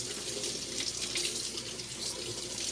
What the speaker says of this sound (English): Alright, so you just want to really wash your chicken well.